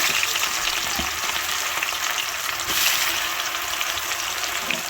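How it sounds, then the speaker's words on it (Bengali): Chopped onions fry in hot oil for a mutton curry, a loud continuous sizzle close by with faint scraping as they are stirred, and no voices. "পেঁয়াজ কুচি দিয়ে এগুলো আমি নাড়তে থাকবো এখন"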